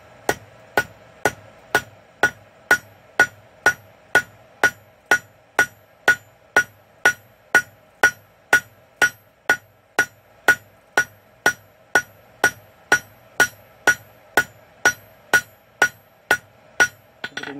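A hammer forges a steel hairpin with a rat-tail point, about thirty sharp ringing blows falling in an even, steady rhythm, close and loud, with nothing else heard.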